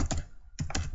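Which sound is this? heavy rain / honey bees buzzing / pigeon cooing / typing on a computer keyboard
typing on a computer keyboard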